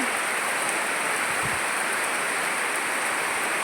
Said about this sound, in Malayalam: നല്ല കാറ്റും മഴ കേട്ടോ